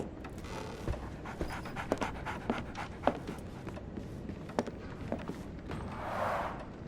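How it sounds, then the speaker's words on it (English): A dog pants steadily and rhythmically in the Sherlock Holmes The Awakened video game, close and fairly quiet, with a few soft thumps and a brief whine near the end. "So, Barnes has a dog now."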